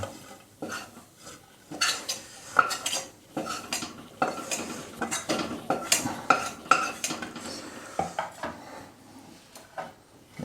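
Metal utensils scrape and clink against a pan and plate while finely chopped fried dry fruits are moved out, in a steady run of close, sharp strikes and scrapes with no talking.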